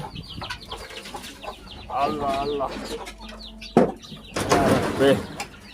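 Guinea fowl calling and clucking at close range, with repeated bursts of harsh, rhythmic calls, while a person speaks briefly nearby.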